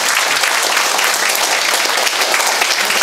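Sustained applause from an audience at an inauguration ceremony for the Syngman Rhee Memorial Society's new chairman, a dense, steady clatter of many hands lasting throughout without talk.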